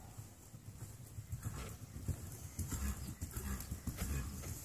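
Horse hooves in a working trot during a dressage test, a steady two-beat clip-clop rhythm on arena footing, fairly faint and distant with no talk over it.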